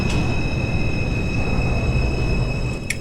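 R142 subway train running in the OpenBVE train simulator on a Bronx-bound 4 local, a loud, steady rolling rumble with a thin whine on top and a brief clank near the end.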